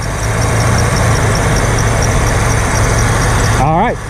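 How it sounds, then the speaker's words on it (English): A 1984 Ford LTD Crown Victoria engine keeps running steadily with its positive battery cable removed, a constant loud idle drone that holds throughout before a brief rising-and-falling tone near the end. "If the alternator is working, the engine will still have enough gas to run."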